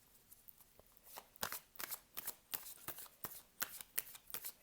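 Tarot cards being shuffled by hand, a run of crisp papery riffles and slaps in quick, uneven bursts, close and fairly quiet with no talk over them.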